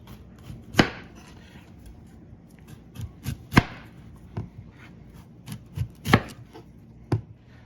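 A knife chops onions and celeriac on a cutting board in about a dozen sharp, close thuds at an irregular, unhurried pace, with quiet pauses between cuts.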